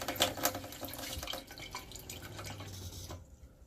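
Water runs from a hot tap in an RV being winterized, dripping and splashing into a sink in a close, uneven patter that thins out and fades toward the end.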